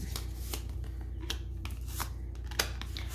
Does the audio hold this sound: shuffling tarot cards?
yes